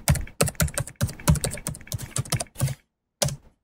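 Rapid bursts of typing on a computer keyboard, clustered keystrokes in quick runs with a short pause near the end, close and fairly loud with no talk.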